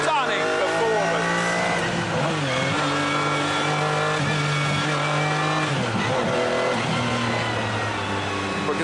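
A McLaren F1's engine revs hard and climbs through the gears, its roar loud and close for the whole stretch, with a brief dip as a gear shifts.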